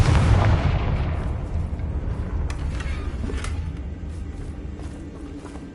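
A Confringo spell explosion in Hogwarts Legacy: a loud, rumbling blast at the start that decays into a long, booming roar with crackling debris, fading gradually over several seconds with no voices.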